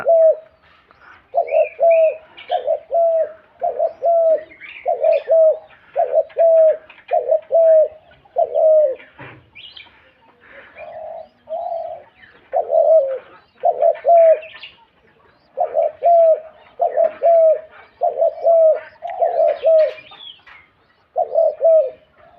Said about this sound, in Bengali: বাসার পাখিগুলো সেল দিয়ে দিব